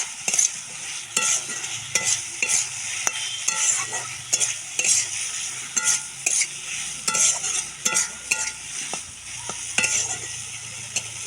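Potatoes are stirred and sautéed in cooked spice masala for a cumin-paste fish curry, with a spoon repeatedly scraping the pan in an uneven rhythm over a soft, steady sizzle, close up and without speech.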